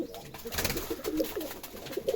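Pigeons cooing in a breeding loft, several soft throaty coos repeating irregularly close by, with faint rustling between calls.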